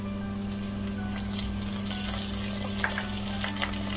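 Chopped onions sizzle steadily in hot oil in a pan while being browned for chicken bhuna masala, a continuous close frying hiss with a low hum beneath and a few faint stirring clicks near the end.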